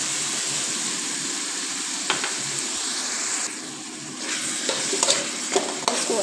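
Chicken sizzles steadily in a hot pan with a spoonful of tomato ketchup as it is stirred, a constant frying hiss broken by a few sharp scraping strokes of the spoon toward the end.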